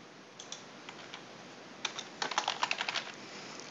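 Keys tapped on a computer keyboard while writing a short text file, a sparse few clicks at first and then a quicker burst of light, close typing over a steady hiss, with no voices.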